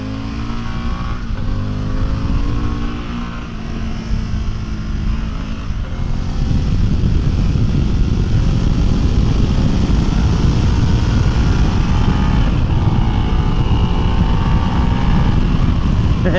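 Harley-Davidson Pan America motorcycle cruising on the highway, a loud steady engine drone and rushing wind roar, with a brief shift in engine pitch early on before it settles into a constant hum, no speech.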